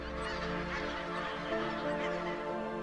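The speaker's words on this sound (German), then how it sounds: "Zugvögel sammeln sich jetzt rund um den Schalsee auf den großen Grünflächen." A flock of migratory geese honks continuously at Lake Schaalsee, many overlapping calls close and far blending into a steady, loud chorus with no talking.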